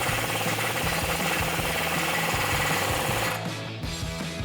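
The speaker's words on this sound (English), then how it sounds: "we'll tighten that down" A rapid rattling power tool, most likely an impact wrench, hammers steadily on a suspension bolt during a coil-over install on a 2011-2023 Dodge Challenger, loud and close, then it eases off near the end.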